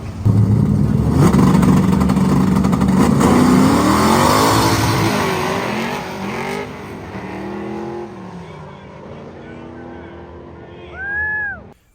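The Meat Wagon, a weighted race car, roaring loudly at high revs as its tires spin, the engine note wavering and rising, then fading, with a brief whine near the end.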